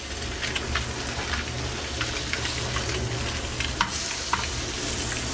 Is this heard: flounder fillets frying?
yes